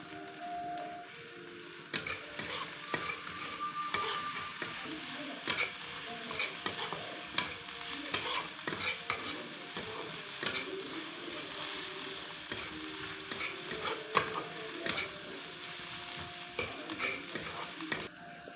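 Taro leaves stirred and frying in a pan, a steady sizzle with repeated scraping strokes of a spatula running through, fairly close and without any voices.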